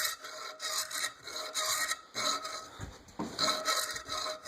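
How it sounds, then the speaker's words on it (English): A hand file rasps steadily across the metal of a night-latching trap, with repeated close strokes in an even back-and-forth rhythm and no talking. "And you're going to start filing."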